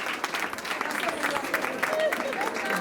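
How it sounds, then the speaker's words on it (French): Audience applause at a school New Year and back-to-school ceremony, a continuous crowd of clapping with some voices mixed in beneath it. "Encore des applaudissements"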